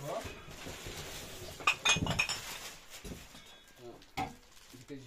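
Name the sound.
dishes clattering as an animal knocks things over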